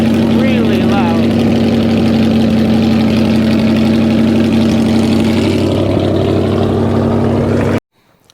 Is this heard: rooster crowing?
no